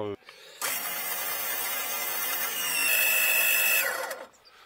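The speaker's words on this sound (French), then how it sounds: "je vais seulement retirer une partie avec la petite pompe" A small pump draws coolant from a Renault 4L engine, giving a steady, loud mechanical whir that starts abruptly, runs for about four seconds, rises slightly in pitch near the end and then cuts off.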